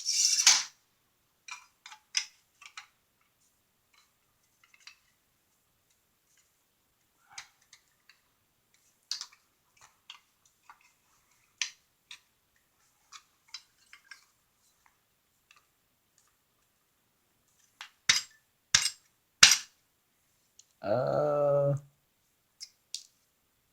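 A metal top cover from a DSA paratrooper rifle conversion kit is fitted, sparse sharp metallic clicks and taps spaced across long quiet gaps, with a few clustered knocks near the end and a short voice.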